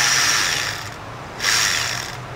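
Snap-on gooseneck ratchet with a swivel head loosening a 10mm battery terminal nut on a 2006 Ford Escape, two bursts of rapid clicking with a short pause between, close up, no talking.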